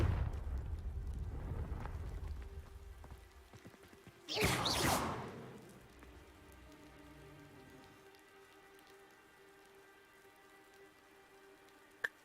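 Confringo fire spell explosion in a wizarding video game, a single loud whooshing burst about a second long, fading into a low crackle over rain-like ambience.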